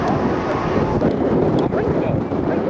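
Strong wind buffeting the microphone high up at an amusement park, a loud, continuous rumbling roar with gusty swells and a few faint clicks, no voices over it.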